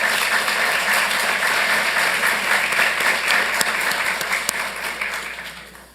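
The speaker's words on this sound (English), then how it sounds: "Please give them a round of applause." Steady applause from a council chamber audience honoring Santa Anita neighborhood leaders in Santa Ana, dense and even, fading toward the end.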